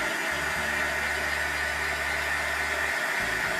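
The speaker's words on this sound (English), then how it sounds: "I'm gonna go over this image one more time with the heat tool" A heat tool blows steadily to dry ink on a card, a loud continuous whooshing roar with a low motor hum that cuts out briefly near the end before resuming.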